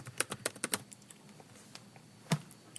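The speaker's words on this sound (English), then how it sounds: "let's type it in." A computer keyboard clicks in a quick burst of several keystrokes, then goes quiet before one final key press, close and fairly soft with no one talking.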